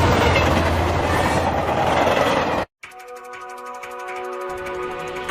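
A runaway train rolling on rails in an animated scene, loud rushing roar that cuts briefly to silence, then gives way to steady rhythmic clacking with a ringing tone.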